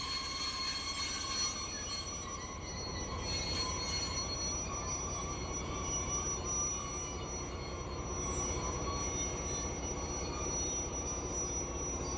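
An intercity train pulled by a Class 101 electric locomotive leaving Lübeck rolls along with a continuous rumble and drawn-out wheel squeal, heard steadily from on board at moderate level.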